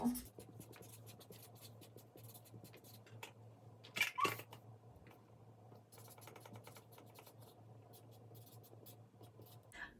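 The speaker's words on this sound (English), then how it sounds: "So I have to write that down too." A pen scratches steadily across paper at a second-grade read-aloud, soft and continuous over a low room hum, with a brief louder bump near the middle.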